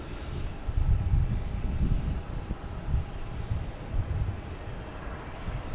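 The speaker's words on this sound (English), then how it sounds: "we got Air France lined up on 4 right, ready for takeoff." An Air France airliner taking off from runway 4 right at Boston Logan Airport, a steady distant low jet roar with gentle swells, heard alone without talk.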